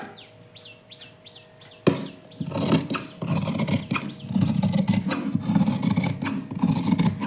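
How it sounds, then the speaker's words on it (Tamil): Scissors cut through blouse fabric at a tailoring table, a steady run of close, crisp rasping snips following a stretch of faint bird chirps in the background. "இப்போ இதை வந்து நம்ம கட் பண்ணிடலாம்"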